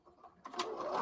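A sewing machine starts up after a brief quiet moment and runs a straight stitch along a tote bag seam, its fast whirring rhythm building steadily and close by.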